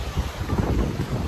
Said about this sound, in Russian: вы видите, какой сильный ветер